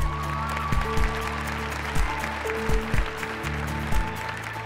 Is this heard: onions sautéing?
no